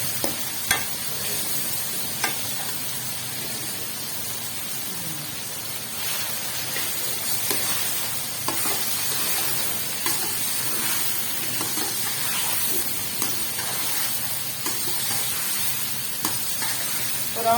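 Chicken frying in a generous amount of ghee for biryani, stirred steadily through a dense, even sizzle with recurring scrapes and clinks, close and fairly loud, no voices.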